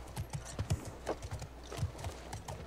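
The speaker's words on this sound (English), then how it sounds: "Oh, look at the horsey. I get my own horsey?" Horse hooves clip-clop at a steady walking rhythm in the video game The Last of Us Part II, close and fairly soft, with no talk over them.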